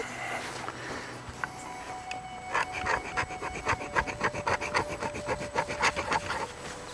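A blunt-tipped gouge carves into wood with a steady series of rasping, scraping strokes, starting sparse and turning into a quick, rhythmic run of close, fairly loud cuts with no voices.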